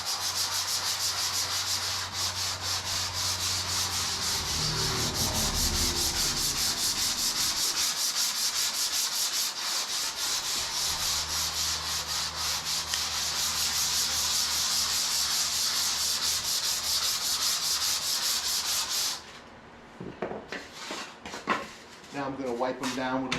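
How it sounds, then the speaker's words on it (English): Sandpaper scuffing a styrofoam surface ahead of gluing, a steady close rubbing rasp running for most of the stretch before stopping near the end, with some low handling noise. "First I'm going to sand the areas just to scuff them up."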